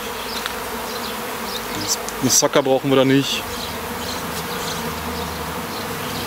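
Honey bees being moved out of a hollow tree trunk, a continuous buzzing swarm close by, with a voice speaking briefly in the middle over the hum.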